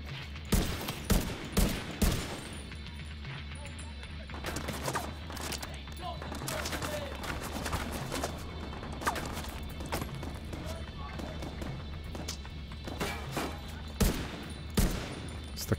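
Gunfire in the shooter The Division 2, with a sniper firing at the player: sharp, loud cracks in clusters at the start and end, with scattered impacts between, over steady ambient game noise.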